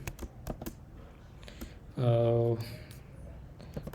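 Light, quick keystrokes on a computer keyboard tap out in scattered bursts, quiet and close, with a brief buzzing hum midway through.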